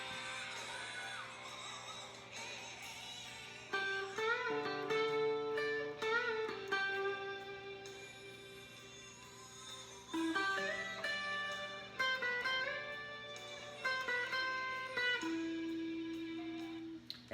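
A song plays as a recording during the guitar solo, with sustained, bending lead guitar notes over a steady backing. The music is fairly quiet and plays alone, without talking.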